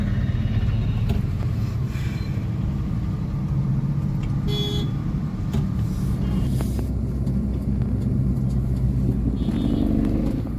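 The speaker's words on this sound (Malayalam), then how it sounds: "വണ്ടിയൊക്കെ ഭയങ്കര സ്ലോയിലാണ് പോകുന്നത്" Slow, heavy road traffic outside Lulu Mall in Kottayam, a continuous close rumble of car and motorcycle engines with occasional short horn toots over the steady drone.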